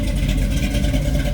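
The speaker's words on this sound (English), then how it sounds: "Hear those Flowmasters. Nice deep throaty exhaust note." A 1970 Chevrolet Nova SS Yenko tribute idling through Flowmaster mufflers, giving a deep, throaty, loping exhaust rumble that stays steady and close for a brief moment.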